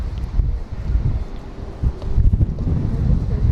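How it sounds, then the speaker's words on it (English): Strong wind roars and buffets a microphone outdoors in an open urban area, a loud continuous low rumble with gusty swells and no speech. "It's like really strong. It's like a windy day."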